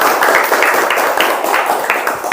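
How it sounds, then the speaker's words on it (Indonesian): A classroom group claps hands in a quick, steady rhythm, dense and loud throughout, like an audience applauding together. "tepuk tangan buat kita semuanya"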